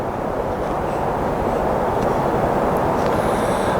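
A helicopter flies low near a tree line outdoors, its engine and rotor noise a steady, loud, continuous roar with no voices.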